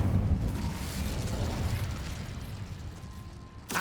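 An Incendio fire spell is cast in Hogwarts Legacy, a sustained roaring, rumbling burst of flame that slowly fades, ending in a short sharp pop.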